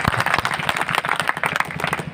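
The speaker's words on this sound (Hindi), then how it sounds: "उसकी स्मृति में तालियां बजा दीजिए" An audience claps in memory of Captain Manoj Pandey, a Kargil war martyr from Sitapur, with a brief burst of dense, close applause.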